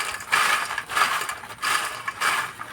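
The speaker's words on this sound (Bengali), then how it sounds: "আর বন্ধুরা, আওয়াজ শুনেই বুঝতে পারছো কতটা মুচমুচে হয়েছে।" Crispy pakoras made from raw peanuts being tossed with chaat masala, heard as four rhythmic bursts of dry, crunchy rattling close by, with short pauses between them.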